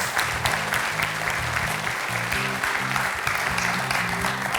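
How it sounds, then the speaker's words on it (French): Studio audience applause on a French quiz show, steady dense clapping filling the whole stretch with a low musical bed underneath. "Applaudissements pour Céline."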